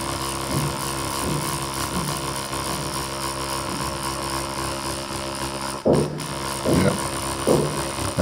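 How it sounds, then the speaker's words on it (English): Heavy sledgehammer blows from a neighbour's renovation upstairs thud at irregular intervals through the ceiling, muffled and moderately loud over a constant background hum, with a cluster of hits near the end. "I guess they are going to sledgehammering like their entire house"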